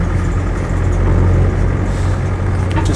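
A Land Rover 90 hardtop with a 2.5 TD diesel engine rumbles steadily close by while in motion, a dense low drone overlaid by rattling from a large winch carried in the back.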